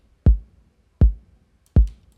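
Single kick drum sample with a muddy, boomy low end for an African worship beat, struck three times at a steady pace, each hit a short thump with a deep decaying tail, alone.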